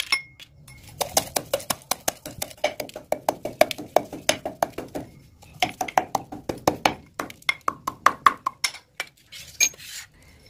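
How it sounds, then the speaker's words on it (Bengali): Dried amla is pounded in a mortar and pestle with steady, ringing metallic strikes, close and rhythmic, in two long runs separated by a brief pause. "এরপর এই শুকনো আমলকিগুলিকেও হামালদিস্তায় করে যতটা সম্ভব গুঁড়ো করে নেব।"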